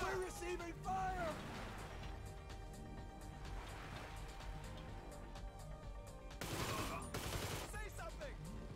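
Rapid gunfire and machine-gun bursts in a GTA Online shootout, a steady crackle under game voices shouting, swelling into denser, louder volleys near the end.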